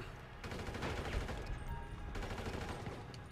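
Gunshots ring out in the video game GTA 5, a dense burst of firing over busy game noise, fairly quiet overall with faint background voices.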